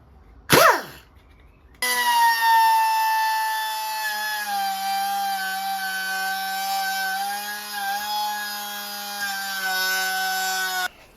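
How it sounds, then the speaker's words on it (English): An air grinder cuts slowly through an acrylic panel with a loud, steady high-pitched whine that holds for about nine seconds after a brief burst at the start, then stops abruptly. "cut this out with the air grinder, making sure to go slowly as acrylic can also crack easily"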